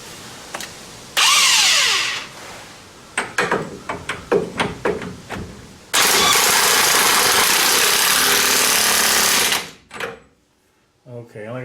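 An impact wrench with a 24mm socket spins a pitman arm nut on a Dodge Ram 1500: a short burst, a string of rapid hammering rattles, then a long loud continuous whirring run that cuts off, with light background noise.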